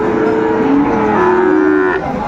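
Cattle at a Tangail cattle market, Sahiwal and Friesian bulls, moo loudly and close by, one long drawn-out low call followed by another, with no talking.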